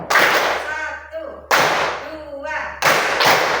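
A class of pupils claps in unison to a teacher's count in a classroom, giving three loud, sharp bursts of clapping with short pauses between them and some voices mixed in.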